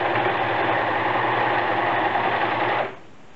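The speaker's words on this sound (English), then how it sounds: "I'm actually using my overlocker here" A domestic overlocker runs steadily for about three seconds stitching a shirt seam to ribbing, giving off a fast, even whirring buzz that stops abruptly.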